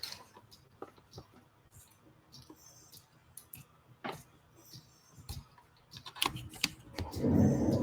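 Computer keyboard typing at a desk, irregular soft clicks and taps scattered over several seconds, fairly quiet and close, with a louder rustle near the end.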